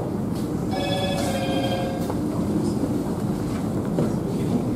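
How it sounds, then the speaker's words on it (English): Telephone ringing during a town council meeting, a faint electronic ring with stacked tones lasting about a second and a half, nearly buried under rumbling room noise. "Can you silence that phone?"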